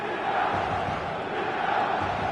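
A stadium crowd in a football video game cheers and roars as a dense, steady wash of noise, loud and sustained throughout, with no distinct voices standing out.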